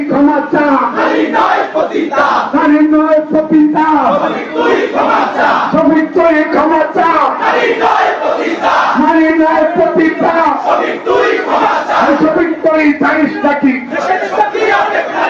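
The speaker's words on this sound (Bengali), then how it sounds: "সাধারণ শিক্ষার্থীরা এই ছাত্র দলের যে কর্মসূচি রয়েছে সেটিতে যুক্ত হয়ে কিন্তু এই মুহূর্তে নানান স্লোগান দিচ্ছেন এবং প্রতিবাদ জানাচ্ছেন" Students at Dhaka University chant protest slogans in loud rhythmic unison, a dense crowd of voices repeating call-and-response phrases that keep going without a break.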